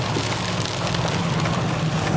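Heavy rain hammers down without pause during a micro-burst wind storm on flooded streets, a thick close hiss over a low steady rumble.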